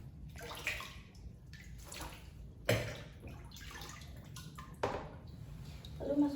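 Water, measured out as 2700 cc for a chlorine solution, is poured and splashed into a container in short, faint bursts of running and dripping sounds.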